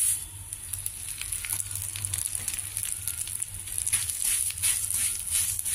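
Pearl millet (sajja) flakes frying in oil in a pan, a steady soft sizzle with faint crackles and stirring scrapes throughout, close and moderately quiet with no talking.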